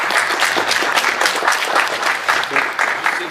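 Audience applause after an announcement at a charity tournament event, dense steady clapping from a crowd filling the whole stretch, loud and close.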